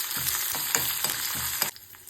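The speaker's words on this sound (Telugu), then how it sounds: "మామూలుగా పోపు వేసేసుకుంటున్నాను" A tempering of urad dal, mustard seeds, chana dal, dried red chillies and green chillies crackles and sizzles in hot oil for pulihora, with several sharp spattering bursts and stirring scrapes close by.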